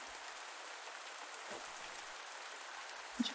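Rain falls in a steady, soft hiss, faint and even throughout, with one small knock near the end.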